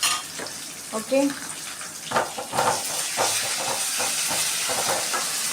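Ginger garlic paste sizzling as it goes into a hot pan while chicken kulambu is cooked, a steady broadband hiss building and holding after a few clattering hits, with a brief spoken word early on.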